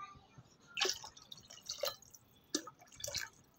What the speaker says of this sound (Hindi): 1 से 2 से 3 गिलास मैंने इसमें पानी शामिल कर दिए हैं